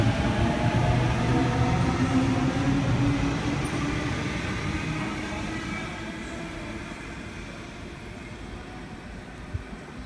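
A Waratah electric train arrives at St Leonards station, its loud rumble and rolling hum filling the platform, then gradually easing in volume as it slows, with little else heard.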